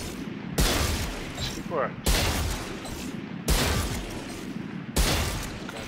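Bursts of gunfire from a video game weapon test after the 2.03 patch, four loud volleys about every one and a half seconds, each starting sharply and trailing into a rumbling tail, with someone talking over them.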